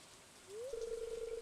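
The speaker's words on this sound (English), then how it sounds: "watching the curtains of rain whisper over the silent lake" Soft rain falls over a lake in the video game Stardew Valley, a faint, steady hiss joined partway by a clear sustained musical tone that slides up and then holds.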